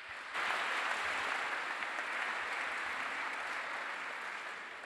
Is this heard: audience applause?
yes